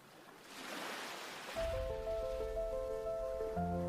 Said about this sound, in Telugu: ఇక్కడ అలలు సౌండ్ వింటుంటే అసలు మైండ్ అంతా చాలా ప్రశాంతంగా ఉంది